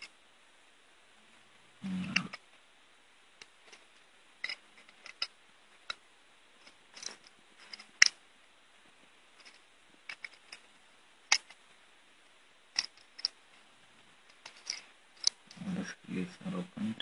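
Small screws being undone on a Nokia 206 mobile phone: sparse, faint clicks and ticks of a tiny screwdriver at irregular intervals, close up, with brief bits of voice near the start and end.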